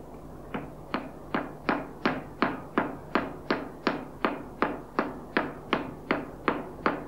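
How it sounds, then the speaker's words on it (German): A hammer made of mercury frozen at liquid-nitrogen temperature strikes a hard surface about fifteen times in an even, steady rhythm, each blow a sharp close tap with a short ringing decay. "Ein Hammer aus gefrorenem Quecksilber."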